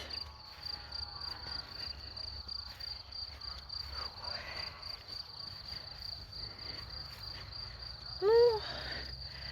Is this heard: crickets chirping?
yes